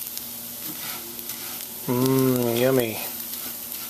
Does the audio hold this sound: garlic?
yes